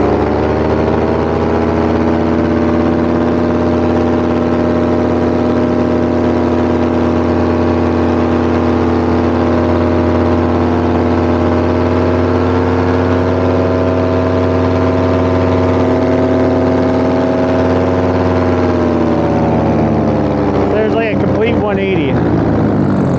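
A Polini Thor 303 paramotor engine runs at cruise power in flight after a foot launch, a loud, close, steady buzzing drone with a rich harmonic whine that holds constant before a slight wavering of pitch near the end.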